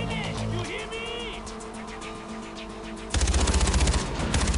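Automatic gunfire from the shooter Far Cry 4 during a counterattack, heavy rapid bursts throughout, growing louder and denser in the final second and a half, set against game music and background voices.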